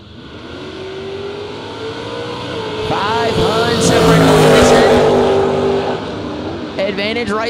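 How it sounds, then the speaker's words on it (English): Drag racing cars, one of them a Camaro, launch hard from the starting line at a footbrake bracket event, with loud engine roars building and peaking as they pull away, then fading amid crowd and track noise. "Mike Eads and Joe Hutto on the starting line"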